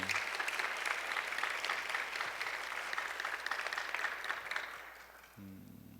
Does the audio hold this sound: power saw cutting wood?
no